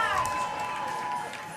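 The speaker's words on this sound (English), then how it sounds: "You hear the crowd's excited." Excited crowd cheering from the stands at a professional ultimate frisbee game between New York Gridlock and Austin Torch, a steady broad roar with rising whistles and shouts, and a commentator talking over it.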